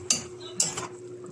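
Utensil scraping and clinking against a pan as vegetables are stirred for ginisang upo with chicken liver and gizzard, two sharp clatters close together, then quieter scraping over a steady hum.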